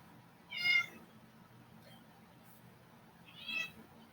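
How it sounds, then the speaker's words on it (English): A cat meows twice, a few seconds apart, fairly faint and a little distant, over a quiet background with soft room noise. "You can hear my cat meowing in the background."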